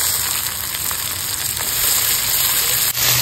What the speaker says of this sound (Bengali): গোটা গরম মশলা, দারচিনি এলাচ লবঙ্গ ফোড়ন দিয়ে দিলাম।